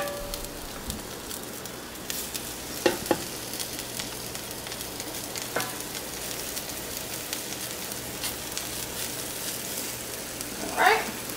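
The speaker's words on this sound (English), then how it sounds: "So I'm going to sear these on up" Beef short ribs searing in a hot pan, a steady moderate sizzle with a few sharper crackles and occasional clanks of the pan or utensils, and no one speaking.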